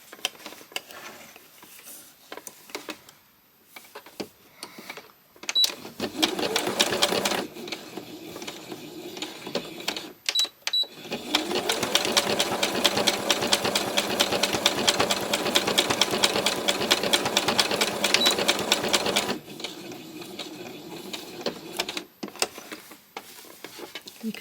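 Sewing machine running in two steady bursts of rapid, even mechanical stitching as it sews scrap fabric for a small spring landscape, with quiet pauses before, between and after.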